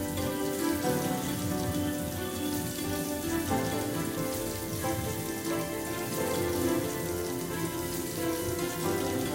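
Chopped onions hit hot oil spiced with cloves, cardamom and cinnamon while cooking rajma, producing a steady, dense crackling sizzle that continues evenly without any talking.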